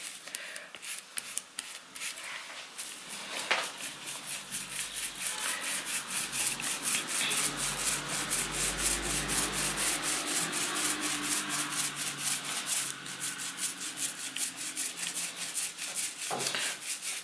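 Paint roller rolled slowly back and forth over a wooden surface, a soft, close, rhythmic rubbing and rasping with regular strokes that continues steadily throughout, with no talking.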